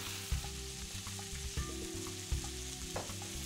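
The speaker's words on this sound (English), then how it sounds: "we're going to add a little bit of garlic. While you mix it, simply add your tomatoes." Garlic and tomatoes sizzle steadily in a pan while being stirred, a soft continuous frying hiss with a few light knocks of the utensil, close but fairly quiet, beneath a low steady hum.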